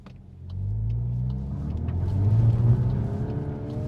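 A 2025 VW Golf R with DSG gearbox accelerating through a dusty gravel corner, its engine note swelling into a deep rising rumble with a growl, heard from inside the car, no talking.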